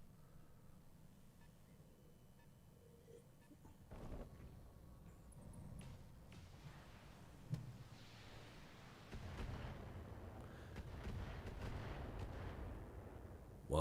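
Enemy mechs in the Battletech video game fire from a distance, producing low rumbling booms and heavy artillery-like thuds that build into a sustained, dull barrage without speech.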